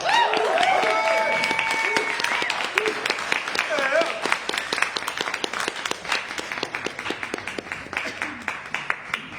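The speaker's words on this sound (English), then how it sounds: "Let's give a out loud round of applause for our first time reader, Joyce." An audience at an open mic poetry reading applauds, dense clapping at first that thins into scattered individual claps, with voices speaking over it.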